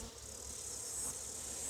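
Honey bees buzz around a hive as a nucleus colony gets a queen excluder and a honey super, making a faint, steady, droning hum with no voices.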